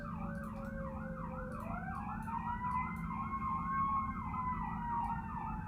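Several emergency sirens wail at once downtown, their pitches rising and falling in overlapping cycles above a steady low rumble of city traffic.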